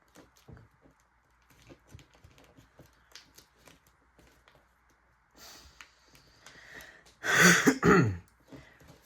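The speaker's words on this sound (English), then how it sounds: "I don't know why I cough like that sometimes" A person coughing and clearing the throat, two loud close bursts near the end after a stretch of faint tapping and small handling noises.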